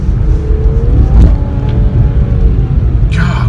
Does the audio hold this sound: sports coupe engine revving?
yes